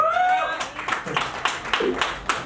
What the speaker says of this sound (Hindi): देखो पहले इतने रोमांटिक हस्बैंड के लिए एक बार जोरदार तालियां बनती है।